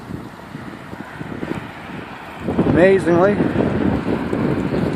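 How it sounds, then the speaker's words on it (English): Cold wind blowing outdoors on a windy day in Sarnia, a steady broadband rush buffeting the microphone throughout, growing louder and gustier midway while someone talks over it. "that wind's cold today"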